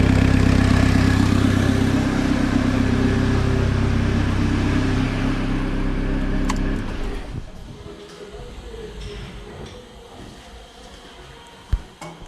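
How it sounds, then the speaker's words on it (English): An Audi A6 2.0 TDI diesel engine gives a steady, loud roar with rough exhaust blowing from an open pipe during EGR valve work, then drops away to faint clatter and a sharp knock. "This pipe is working, it's blowing exhaust air."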